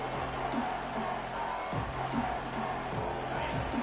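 A football stadium crowd roars steadily during a red zone defensive stand, a dense continuous wash of distant voices and noise with no break.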